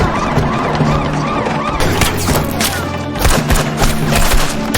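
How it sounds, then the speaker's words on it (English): Gunfire in a shootout between thugs and police erupts as dense bursts of sharp, loud shots and heavy thuds over a tense film score, close and chaotic, with some voices mixed in. "While the thugs were busy exchanging gunfire with the police"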